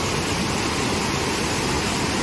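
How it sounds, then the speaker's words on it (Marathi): A river flows beneath a bridge near Dhutpapeshwar Temple in Rajapur, Kokan, a loud, continuous rushing roar of water that fills the whole stretch. "तर ब्रिजवरून आपण पाण्याचा प्रवाह पाहू शकता।"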